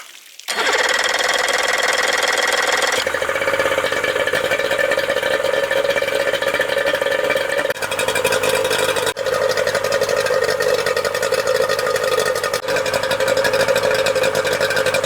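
An outboard boat engine runs continuously at a steady, fairly loud buzzing idle while fogging oil is sprayed into it, its tone shifting slightly a few seconds in, then holding even.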